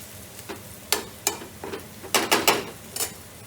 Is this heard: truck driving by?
no